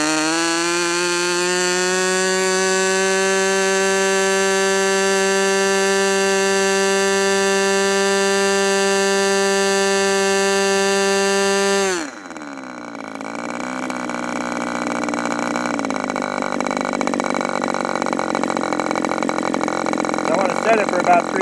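A small single-cylinder model engine runs at a steady high throttle near 3,000 RPM, a loud buzzing drone that holds evenly, then drops abruptly and settles into a rougher, lower running note.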